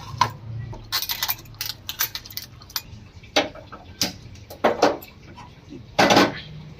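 A wok set down among pots and cooking utensils in a home kitchen gives a series of sharp metallic clanks and knocks at irregular intervals, fairly close, with no talking.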